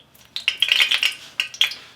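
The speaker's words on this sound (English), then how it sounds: "That sizzle, little pop, and you know that the oil is hot enough." A drop of water hits hot frying oil in a kitchen pan, giving a burst of crisp sizzling crackles and small pops, close and fairly loud, that flare up twice and fade within two seconds.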